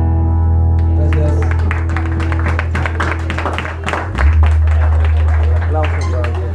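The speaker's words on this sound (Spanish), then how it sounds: "Aplausos para el festejado." At a live performance in Xochistlahuaca, Guerrero, a crowd claps for the person being celebrated, with many quick overlapping claps over a low sustained musical drone and some speech.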